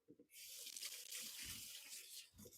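A running tap pours water over hands being rinsed, a steady close splashing rush that starts abruptly after a brief pause and continues with faint low thumps beneath it.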